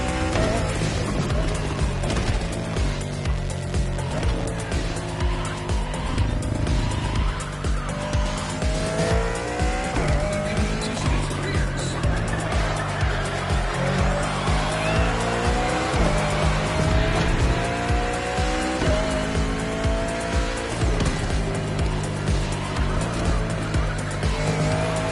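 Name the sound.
race cars racing in The Crew Motorfest video game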